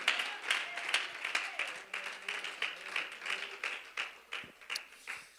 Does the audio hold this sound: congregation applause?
yes